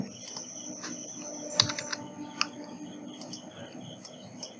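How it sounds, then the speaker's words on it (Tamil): Typing on a computer keyboard while working in Photoshop 7.0: a steady run of light, irregular key clicks with a few sharper taps, alone over a faint, buzzy, insect-like background hiss. "எக்ஸாம்பிளுக்கு ஒன்று டைப் பண்ணி காமிக்கிறேன் உங்களுக்கு"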